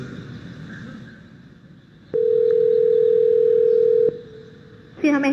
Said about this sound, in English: Let's say you want to call a restaurant